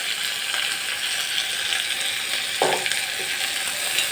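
Vegetables such as drumstick, beans, tomato and carrot stirred in a pressure cooker pot for sambhar rice, a constant loud sizzle with a single scrape of the spoon against the pot near the end.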